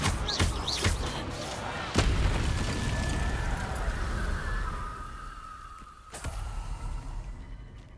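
In the Hogwarts Legacy video game, a Confringo fire spell goes off in sharp explosive bursts, with several booming hits at the start and a strong blast near two seconds, followed by a whooshing roar and a later thump.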